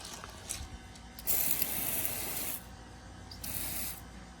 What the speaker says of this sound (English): hey Travis, spray these off so we get a better look.